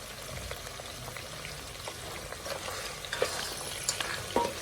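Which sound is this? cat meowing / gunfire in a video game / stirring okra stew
stirring okra stew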